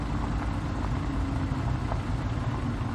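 A car driving in the video game Resident Evil 7 gives a steady, dense engine drone and road rumble, continuous and moderately loud for the full few seconds, with no talking.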